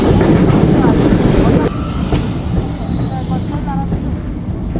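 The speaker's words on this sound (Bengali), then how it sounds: "আমাদের ট্রেন চলে আসলো ঝিকরগাছা স্টেশনে।" A passenger train rumbles into Jhikargacha station, heavy broadband roar and rattling wheels close by, easing slightly as it slows, with faint squeals and distant voices.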